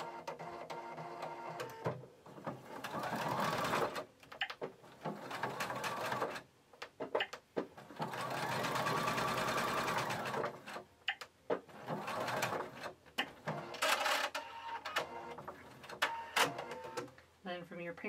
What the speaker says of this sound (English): I'm going to sew from the edge to your pink mark.